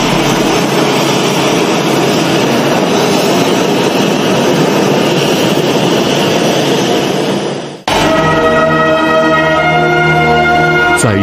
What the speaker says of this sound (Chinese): 载护江泽民同志遗体的专机缓缓降落